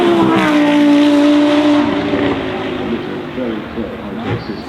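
A new hybrid Lamborghini hypercar of about 1,000 horsepower driven flat out, its engine loud and close with a rising then falling tone that fades as it pulls away, under a voice talking.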